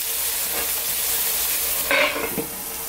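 Steady close sizzling of tomatoes cooking down in a pan for shakshuka, with a couple of soft stirring scrapes near the end.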